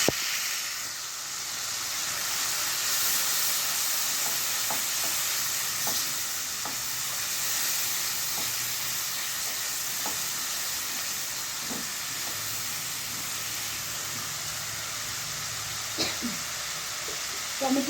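Spice masala with chili powder and salt sautéing in a pan for a rohu fish curry, a steady sizzle with scattered scraping stir strokes throughout, close and continuous.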